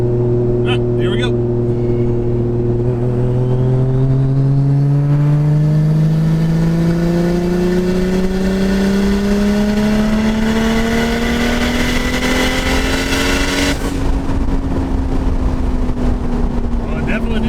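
Tuned turbocharged street car accelerates hard through the gears on a tuning pull, the engine note climbing steadily from a low growl to a high whine over many seconds, loud and close, then easing off near the end.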